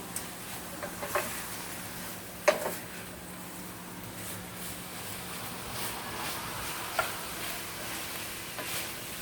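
Food cooking in a pan gives a faint, steady sizzle with occasional soft clinks and stirring scrapes, quiet and unaccompanied by talk.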